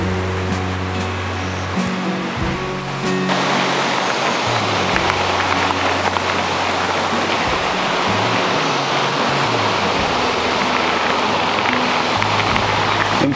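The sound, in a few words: river Selbnitz flowing water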